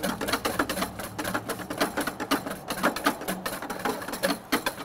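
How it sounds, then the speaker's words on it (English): A whisk churns salt and sugar into a cold brine in a bucket for a barbecue turkey, making fast, rhythmic sloshing and rattling strokes that repeat steadily and close up with no talking. "Let's get in there with a whisk and make sure that we can dissolve some of this salt and sugar here."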